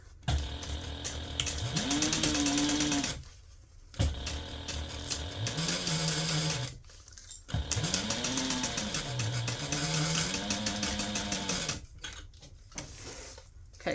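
A sewing machine runs in three stitching bursts along a large gift bag seam, each a whirring motor whine that climbs to speed and holds, separated by short pauses and ending in quick stop-start taps.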